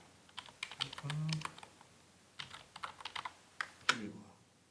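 A computer keyboard is tapped in short irregular bursts to enter a save-for-web shortcut in an image editor, with close, light keystrokes and one louder clack near the end.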